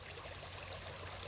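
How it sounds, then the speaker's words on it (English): Creek water runs steadily through a gold sluice on a river, a continuous close rushing and trickling with no pauses. "Now we're letting the creek run for a good 20 minutes"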